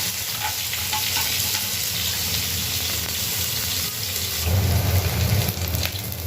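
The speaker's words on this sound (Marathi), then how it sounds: "जिरे कडकड करायला लागले की आपण त्यामध्ये कांदा टाकूया" Cumin seeds crackle and onion sizzles steadily in hot oil, a dense close frying hiss that swells louder near the end as the pan is stirred.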